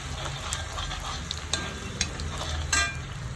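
Ginger frying in a pan with popped mustard seeds, a steady close sizzle with occasional light crackles and pops and a faint stirring scrape.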